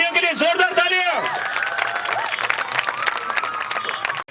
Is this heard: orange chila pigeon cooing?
no